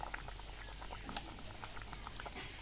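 A pan of Bengali katla fish curry simmering, its gravy bubbling with a soft, steady patter and occasional pops, quiet and continuous with no talking.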